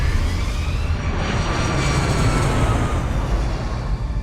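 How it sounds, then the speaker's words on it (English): An airliner's jet engines roar during the takeoff run on the runway, a loud, broad, steady rush without speech that continues for several seconds. "Cactus 1549, runway 4, clear for takeoff."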